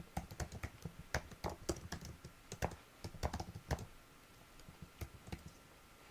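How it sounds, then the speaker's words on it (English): Code being typed on a computer keyboard, a steady run of close, crisp key clicks in uneven bursts with short pauses, no voice. "I'm going to be typing some similar code here"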